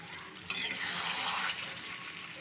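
Chicken pieces being sautéed in a pan, heard as a brief close burst of hissing sizzle that swells suddenly and then eases back to a lower steady fry, with no talk.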